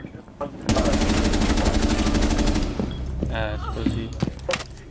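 Rapid automatic gunfire from a gun in Rainbow Six Siege, a loud sustained burst of dense shots for about two seconds, then scattered thuds and shorter shots as play continues.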